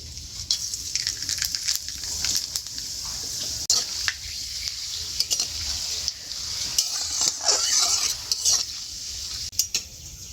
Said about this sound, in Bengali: এবারে কড়াইতে ফোড়নের জন্য দিয়ে দেবো শুকনো লঙ্কা, তেজপাতা, গোটা গরম মশলা, গোলমরিচ আর জিরে